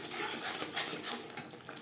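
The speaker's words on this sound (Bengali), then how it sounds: "মশলার সাথে লবণ, হলুদ ও লাল লঙ্কার গুঁড়ো বেশ ভালো করে মিক্স করে দেবো।" A utensil scrapes and stirs spice paste mixed with salt, turmeric and red chili powder for Bengali pabda fish curry: quiet, steady rubbing and scraping strokes against a pan, close by, with no talking.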